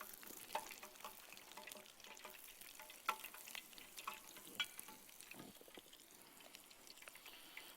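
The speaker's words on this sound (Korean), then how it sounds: "한 번 더 또 튀겨 볼게요." Apple doughnuts deep-fry in hot oil, a faint, continuous bubbling sizzle with occasional light clicks and taps nearby.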